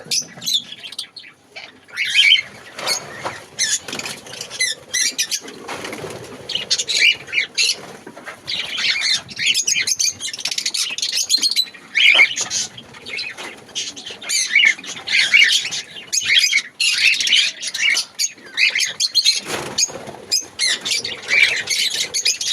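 A large aviary colony of sun conures and lovebirds fills the air with loud, overlapping squawks and chirps, bursts of wing flapping mixed in, close and continuous.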